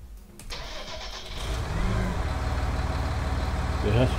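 A tractor engine in Farming Simulator 19 cranks and catches, then settles into a steady, loud mid-pitched idle with a rhythmic chug, while someone talks briefly in the background at the start.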